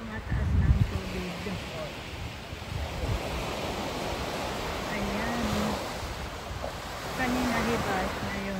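Sea waves wash onto a beach at Cheung Chau as the high tide rises, a steady broad surf wash with some wind noise at the microphone, continuing throughout with faint voices mixed in.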